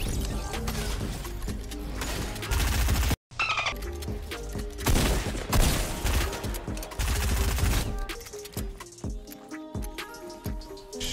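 Rapid shotgun blasts and dense gunfire in a battle-royale squad video game, loud and continuous with a brief cutout near the middle, followed by scattered clanks and impacts.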